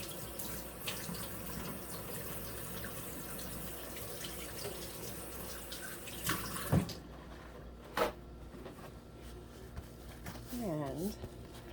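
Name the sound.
washing hands under running tap water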